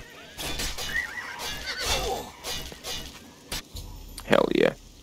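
A horse in the video game Oblivion whinnies loudly near the end, after hoof clip-clops and a speaking voice.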